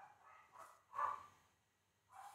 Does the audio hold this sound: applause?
no